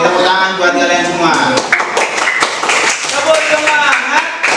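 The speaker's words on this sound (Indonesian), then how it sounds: "tepuk tangan buat kalian semua" A teacher's voice talks over a classroom of schoolchildren, with scattered hand claps and taps breaking in around the speech.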